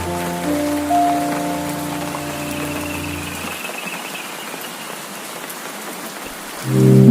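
Cartoon rain pours down in a village scene, a steady hissing patter that starts under a fading musical tone and continues alone before music returns at the end.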